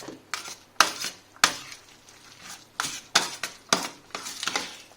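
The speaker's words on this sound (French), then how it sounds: "Le petit zeste de citron. On mélange une première fois." Risotto is stirred with parmesan and lemon zest in a dish, and a utensil scrapes and clinks against the dish in sharp, irregular strokes about once or twice a second, with no talk.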